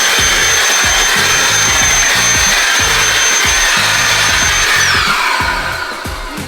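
A DeWalt battery-powered portable hoover runs loud and steady with a rough, pulsing motor whine and a high tonal hum, easing off slightly near the end; no one speaks.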